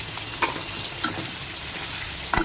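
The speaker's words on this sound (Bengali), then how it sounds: "বেশি ভাজবো না, একটুখানি হালকা করে ভেজে নেবো, সিদ্ধ করা আছে।" Boiled carrots fry with whole garam masala in a pan, a steady hiss of sizzling broken by a few sharp clinks and scrapes of stirring, with no voices.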